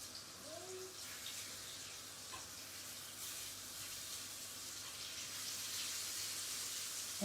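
Veal saltimbocca alla Romana frying in a pan after being turned, giving a steady, moderately quiet hiss and sizzle that holds evenly throughout with no talking.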